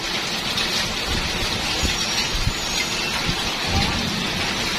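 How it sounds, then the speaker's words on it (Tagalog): A hailstorm with rain and thunder, heard as a steady, dense patter of falling hail and rain with low rumbling underneath, continuous and even at a moderate level. "Na umuulan ng yelo."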